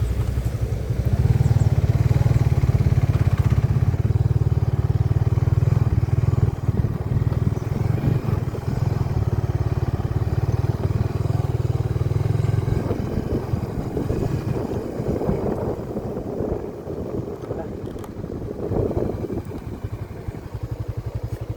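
A motorcycle rides along a road near Imugan Falls in Nueva Vizcaya, with a steady engine drone and heavy wind rush throughout and no one talking.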